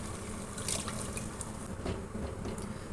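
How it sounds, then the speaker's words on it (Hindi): Chickpea cooking water pours into a pot with a soft, continuous splashing trickle, fairly faint and close. "ये चनों का पानी इसमें डाल दूँगी"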